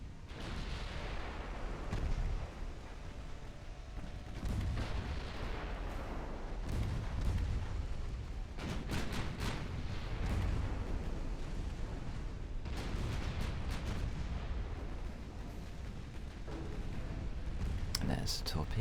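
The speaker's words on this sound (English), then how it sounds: "And there's the torpedoes." Naval gunfire and torpedo blasts in a warship video game, with a dense run of heavy booms and crackling bursts over a constant low rumble lasting the whole stretch.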